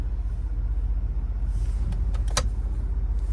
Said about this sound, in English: And this is for our electronic parking brake.